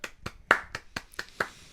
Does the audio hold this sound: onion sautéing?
no